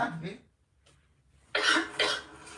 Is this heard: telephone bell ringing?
no